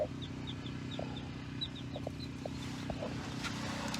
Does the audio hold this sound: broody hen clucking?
yes